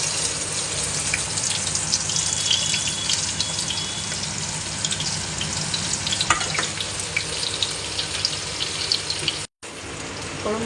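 Cumin, asafoetida and onion frying in hot oil while cooking stuffed brinjal curry, a steady dense sizzle close by, loud and continuous apart from a brief cut near the end, no talking.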